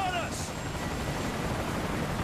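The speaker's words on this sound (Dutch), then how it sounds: "Kijk, daar is de helikopter." A helicopter in the video game Call of Duty: Ghosts gives off a steady, broadband rotor-and-engine roar that fills the whole clip at an even level, with a faint voice briefly over the start.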